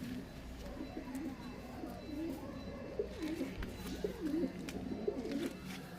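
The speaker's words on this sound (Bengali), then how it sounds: "বন্ধুরা এই দেখায় আপনাদের ম্যাড্রাস পায়রা, সবুজের ওপর" Madras pigeons in a loft coo steadily in overlapping, rolling calls at close range, with a low background murmur and no clear talk.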